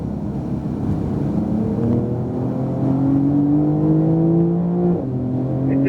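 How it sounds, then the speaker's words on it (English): A 2018 Porsche 911 Turbo S accelerates on a racetrack, its engine note climbing steadily through gears with rising pitch and a brief dip before pulling again, loud and continuous from close by. "Jeff, keep accelerating, and then hard brake."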